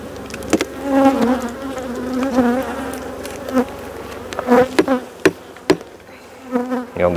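Honey bees swarm around an open hive on the Mediterranean coast while swarms are being split, a steady close buzzing with a few sharp knocks of frames being handled.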